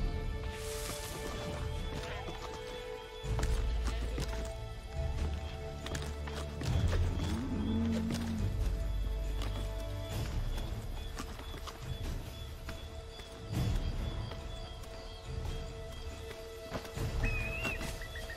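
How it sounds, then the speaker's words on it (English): In Assassin's Creed III, a horse gallops at night with a steady clip-clop of hooves, close and continuous, plus occasional snorts and whinnies. "Get back on the horse, Connor."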